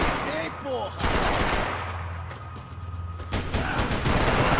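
Rapid gunfire in the shooter game Max Payne 3, with bursts of automatic fire and loud shots in quick succession, dense and close, continuing throughout with a player's voice briefly heard.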